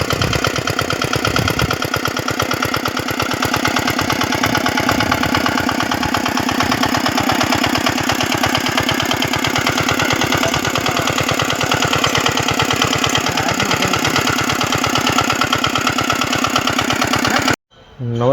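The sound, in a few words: Giriraj nano tiller engine running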